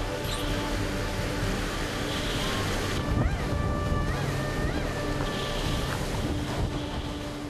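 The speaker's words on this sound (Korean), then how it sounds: "파도를 넘으며 전진하는 29톤 어선." A 29-ton fishing boat pushes through huge waves on the open sea, with a constant heavy roar of wind and water, engine drone beneath, and a few faint whistling tones partway through.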